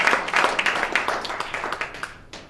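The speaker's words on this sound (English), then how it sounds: "Let's give that a round of applause" Audience applause at a holiday celebration gathering, a short burst of steady clapping from a modest crowd that thins out toward the end.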